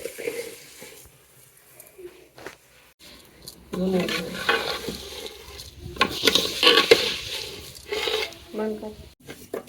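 A spoon keeps stirring food that fries in a hot pan over a strong flame, with intermittent scraping and sizzling close by, and muffled voices or kitchen noise in the gaps.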